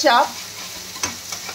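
Ground onion, ginger, garlic and tomato paste fries in a pan for chicken chaap, a soft sizzle under the scrape of stirring, with a brief voice at the start.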